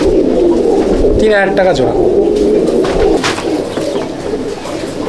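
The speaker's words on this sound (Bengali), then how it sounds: "বন্ধুরা দেখুন পায়রা" Pigeons in a loft coo steadily up close, a low rolling murmur running through the whole stretch, with a few sharper calls and someone speaking over them.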